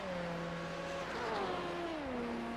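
Race car engine in a sim racing endurance event at Watkins Glen, a moderately quiet engine note whose pitch drops steadily as the car slows, with no voices over it.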